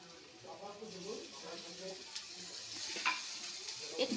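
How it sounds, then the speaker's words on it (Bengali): Mustard paste going into onions already frying in a pan sets off a steady close sizzle with stirring and scraping throughout, a few louder clicks near the end, and faint speech underneath. "আমি সর্ষে বাটাটা দিয়ে দিলাম।"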